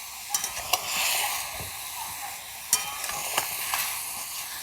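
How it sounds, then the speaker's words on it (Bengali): Papaya, potato, carrot and tomato being stirred in a pan for chicken stew, a continuous sizzle broken by several scraping spoon strokes and light clicks, close and moderately loud, with no voices. "5-7 মিনিট নাড়াচাড়া করে নেব সমস্ত কিছু"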